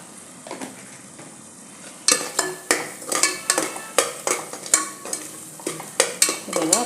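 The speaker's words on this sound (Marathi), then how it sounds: "बघा आता मसाले परतून झाले आहेत" Spices sauté in a pressure cooker for pav bhaji. A soft sizzle gives way to a dozen rhythmic, close scraping and clanking spatula strokes against the metal pot.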